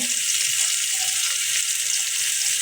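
Garlic, onion and cumin pastes fry in a pan with a continuous, close, bright hiss and faint crackle, steady throughout with no talking.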